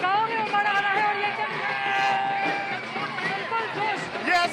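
A large, dense crowd gathers at an airport to welcome sporting champions, filling the air with a continuous babble of many voices and chanting that stays loud and steady throughout.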